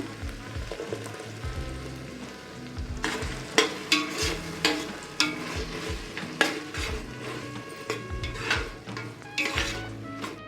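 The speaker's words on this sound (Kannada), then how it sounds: "ಇವಾಗ ರುಬ್ಬಿರೋದು ಹಾಕ್ಕೊತಾ ಇದ್ದೀನಿ ಪಾಲಕ್ನ" Ground spinach paste fries in oil with peas and tomato for palak pulao, a continuous sizzle under repeated scraping stirs and clinks of a spoon against the pan, close and busy throughout.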